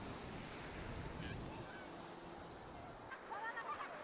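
Sea waves breaking on the beach at Mandarmoni, West Bengal, a continuous close wash of surf mixed with wind buffeting the microphone, with faint voices and distant calls in the background.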